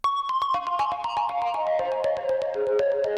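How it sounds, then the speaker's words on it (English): A synth lead built from a sine wave with unison detune, multiband compression, delay, distortion and reverb plays a bright, plucky melodic line of quick repeated notes for a chill house track. "It's a vital sound made from a sine wave."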